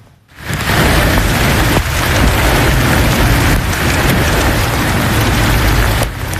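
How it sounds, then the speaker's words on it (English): Hail and heavy rain pour down during a thunderstorm in Bakersfield, bouncing off cars, windows and an umbrella; a loud, dense, unbroken clatter that swells in quickly and holds steady throughout. "we saw hail bouncing off cars, windows, and that gentleman's umbrella as this thunderstorm moved through the area"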